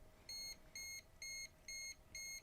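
A non-contact voltage tester sounds five short, evenly spaced high beeps near live electrical wiring in an RV, faint but clear over a quiet background.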